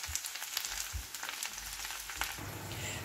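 Washed spinach lands in a pan of caramelized onion, giving a soft, steady sizzle with faint crackles and a few low bumps from handling the pan, no talk.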